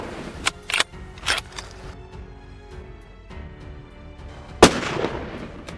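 A single sharp gunshot rings out during an alligator hunt in Florida. It is loud and close with a brief outdoor echo, and a few softer clicks and knocks come before it.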